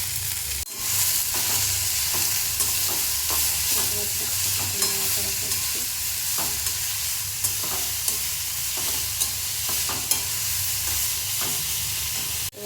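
A mixed paratha filling with carrot fries in a pan, a constant hissing sizzle broken by regular scraping ticks of a spatula stirring it, close and steady with no speech.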